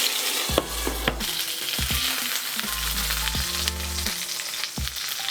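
Chicken wings sizzle steadily in a hot frying pan with a constant crackling hiss, punctuated by low knocks and scrapes of stirring.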